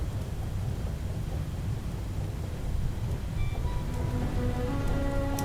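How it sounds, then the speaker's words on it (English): Steady, dense rain falls on the water's surface in the game FAR: Changing Tides, a continuous close hiss with a low rumble beneath. Faint tonal notes drift in toward the end. "then it starts to rain on the surface"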